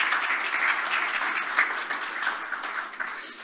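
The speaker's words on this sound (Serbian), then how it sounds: "Molim vas da je pozdravite jednim aplauzom." An audience at a grain and oilseed market panel discussion applauds to greet a guest, a sustained, even wash of many clapping hands heard at some distance for about three and a half seconds.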